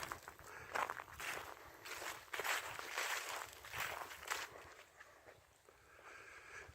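Footsteps crunch on gravel outdoors in a steady walking rhythm of close, rough scuffs, with some wind noise and no talking.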